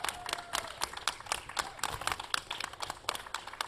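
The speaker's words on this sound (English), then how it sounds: "Round of applause, ladies and gentlemen." An audience claps steadily at a quiz show, a dense patter of many hands that stays fairly loud and even throughout, with no voices standing out.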